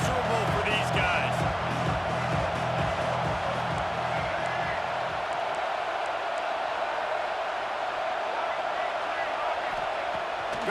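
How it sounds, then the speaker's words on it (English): A home football crowd at an Aggies game roars in a steady, loud wash of cheering that fills the stadium throughout, with a commentator talking over it. "how nice is it to have the home crowd going absolutely bananas?"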